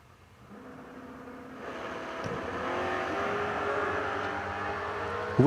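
Drag racing dragsters launching down the lanes at a $10 Grands event, a steady engine roar rising and building over several seconds, loud and sustained, ending with a sharp burst.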